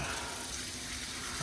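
Water poured from a small teapot onto a car's intercooler, a continuous close splashing gush with a hissy, sizzling texture.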